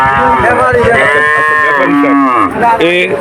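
A dairy cow moos loudly and close by at a cattle market, one long drawn-out low call with a falling pitch, and crowd noise faint behind it.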